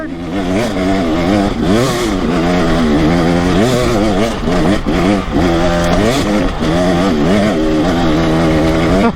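A two-stroke dirt bike engine revs hard at the limit in second gear while climbing a power line trail in light rain, a loud continuous wailing roar with rising and falling pitch.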